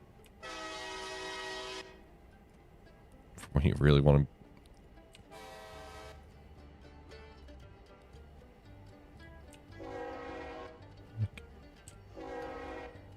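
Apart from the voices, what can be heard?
shop switcher locomotive horns in railroad video game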